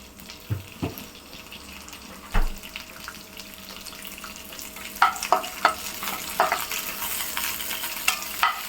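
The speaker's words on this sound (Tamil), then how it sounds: "இது வந்து பொரியும், நெய்லேயே பொரியும்" Steady sizzling of rose petals frying in hot ghee with scattered crackles and pops, plus a few stirring clinks and scrapes; no voices.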